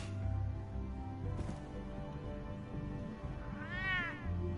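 A cat meows repeatedly during play of a Batman game, with a rising-falling harmonic call near the end over steady game music and background sounds.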